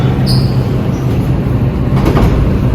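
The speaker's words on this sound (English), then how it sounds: "The train is approaching." A New York subway express train rumbles steadily into a station, a loud continuous roar of wheels and motors with a faint squeal at the start.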